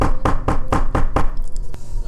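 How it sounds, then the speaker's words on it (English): Five evenly spaced, firm knocks on a door, close and sharp, followed by a brief pause and one last softer tap, with no talking. "A knock again."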